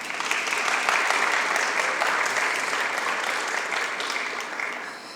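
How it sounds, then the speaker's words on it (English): An audience at a high school summa cum laude recognition ceremony claps for honored students, a steady even wash of applause heard at moderate distance, holding for several seconds and tapering slightly at the end. "Let's take another moment to offer a round of applause to all of our Summas."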